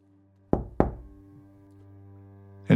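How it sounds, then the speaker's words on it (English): A door takes two firm knocks close by, then a third begins a couple of seconds later, over a low steady drone in a quiet horror scene. "But I suddenly hear a knock."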